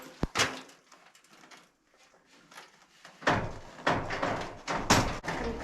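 An insulated metal garage door on a metal building being pulled shut: a sharp knock, quiet shifting, then several loud rattling clanks and rumbles as the panels roll down, close by.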